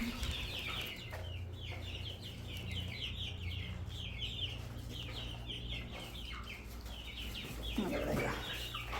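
Chickens and young chicks on a homestead in Guanajuato, Mexico, cluck and chirp continuously at close range over a steady outdoor background.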